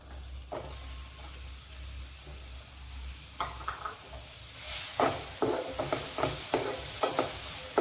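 Finely chopped onion and cumin frying in hot oil for paneer bhurji, a soft sizzle with a rising run of quick spatula stirs and taps against the pan, no voices heard.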